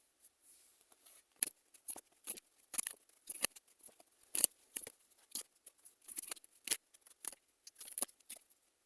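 Tarot cards being shuffled and handled, giving a run of quick, crisp papery flicks and snaps in irregular bursts, close by and fairly quiet, with no talking.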